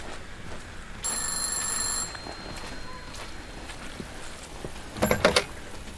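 In a video game, a telephone in a phone booth rings in one electronic burst and then falls quiet. A faint ambient bed sits underneath, and a short clatter follows near the end.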